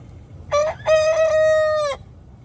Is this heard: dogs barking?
no